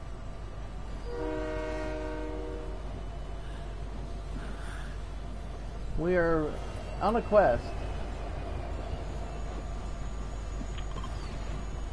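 A train in the Fortnite video game sounds a steady horn chord and then two wavering whistle-like blasts, under a constant low rumble of rolling wheels, while a player speaks briefly.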